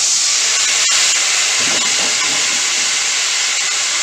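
Water hits a hot pan of vegetarian stuffed pointed gourd (potoler dorma) and sends up a loud, steady hiss of steam, with one sharp click near the start, and no voices.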